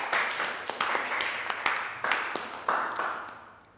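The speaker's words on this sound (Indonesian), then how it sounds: "Tepuk tangan buat semuanya." A classroom full of students clapping hands together, a dense, moderately loud patter of applause lasting several seconds with a few sharper individual claps standing out.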